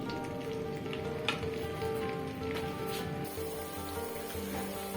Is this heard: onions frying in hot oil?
yes